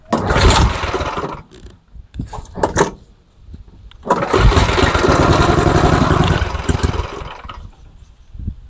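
Tecumseh Snow King small engine fires briefly after a shot of brake cleaner, loud sputtering bursts that die away, then a longer rough run of several seconds before cutting out.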